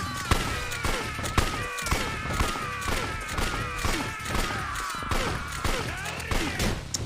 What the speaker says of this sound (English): I was trying to hit the last guy with that bullet